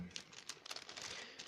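A plastic packaging bag crinkles in a quick series of soft rustles and crackles as a parcel is unpacked, faint and close.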